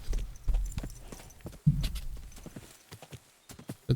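Horse hooves clip-clop in a steady walking rhythm while the animal is ridden along a road in the video game Kingdom Come Deliverance 2, with a few louder thuds and a brief whinny-like sound.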